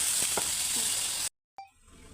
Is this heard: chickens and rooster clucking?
no